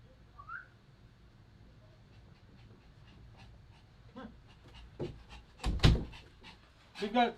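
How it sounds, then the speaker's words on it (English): A pet dog indoors near a door pants and gives a few short barks and whimpers, the louder bursts coming near the end, faint at first and under occasional talk. "you can hear Sully now barking because he has to have attention"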